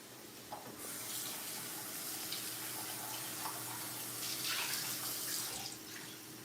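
Water runs steadily from a kitchen tap during a home cooking class for jambalaya and crawfish étouffée, a continuous soft hiss and splash heard close and alone for several seconds.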